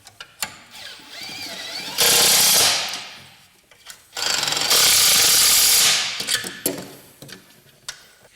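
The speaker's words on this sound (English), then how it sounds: "Once you've got all 4 turret nuts started on the threads, you can then tighten them down." Two long, loud bursts from a power ratchet tightening the four turret plate nuts on a Land Rover Discovery 1, separated by a pause, with small clicks and taps of tools before and after.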